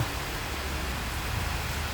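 Rainy-season rain falls as a dense, steady broadband hiss, moderately loud and constant, with no voices.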